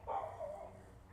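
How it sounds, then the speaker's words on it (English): Neighborhood dogs bark in the distance outdoors in a Florida butterfly garden in winter, a faint burst of a few barks that fades out quickly. "The neighborhood dogs are excited too."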